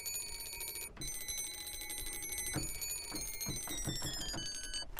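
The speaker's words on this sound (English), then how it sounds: "I'm just kind of interested to hear what the clock is gonna sound like in the sampler." A ringing clock sample played through a sampler sounds as bright metallic bell tones, first sustained, then retriggered in quick pitched hits that step lower in a rapid rhythmic run, loud and close.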